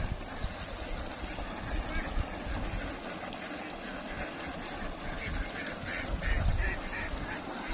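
A flock of ducks kept for sale quacks on and off over steady background noise, the calls fairly faint and blending together throughout.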